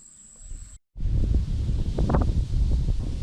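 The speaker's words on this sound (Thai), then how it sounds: "ลมค่อนข้างแรงนะครับ" Strong wind gusting across the open water of an evening lake outing on a small Thai ladder boat, a loud, steady buffeting rush against the microphone after a brief cut, with no voices.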